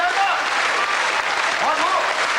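A studio audience applauds a singer with steady, dense clapping that fills the whole moment, while faint voices and cheers rise briefly over it.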